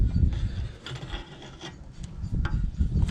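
Rasping, creaking metal-on-metal turning as the inner track rod end on a 2000–2007 Volvo V70 is unscrewed, with irregular scraping strokes and faint ratcheting close up, no talking.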